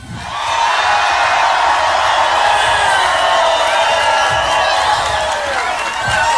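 A large crowd at a Donald Trump rally cheering and clapping, a loud sustained roar with whoops that swells in and holds steady.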